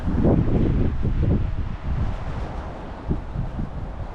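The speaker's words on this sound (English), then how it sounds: "Maybe it's too windy for them." Gusty wind rumbles and buffets the microphone, stronger at first and then easing into a steadier low roar.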